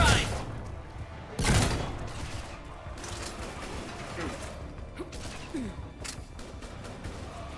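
A shotgun is reloaded mid-roll in the video game Mass Effect 3, with a sharp loud burst early on followed by scattered mechanical clicks and thuds over a low game ambience.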